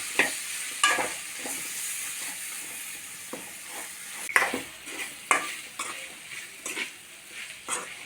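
Boiled potatoes stirred in a frying pan for a Kerala potato curry, a spoon scraping and clinking against the pan in repeated strokes over a steady close sizzle, with no talking.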